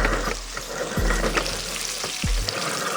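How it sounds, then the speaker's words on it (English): Southwestern egg rolls fry in a pan with a loud, steady sizzle and crackle, broken by two sharp low thumps as the rolls are moved around. "I'm gonna fry up these rolls"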